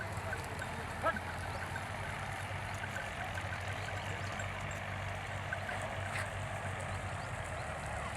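A tractor drives past in a village at dusk, its steady low engine drone rumbling continuously at a moderate distance with no voices over it.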